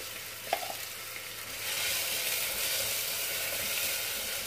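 Sliced onion drops into hot oil in a cooking pot for a sweet lamb tagine, a brief clink followed by a steady, close sizzle that grows louder and holds to the end, with no talking.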